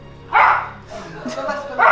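A human voice imitates a dog's barking with a couple of loud, yappy woofs and a short whimpering sound between them.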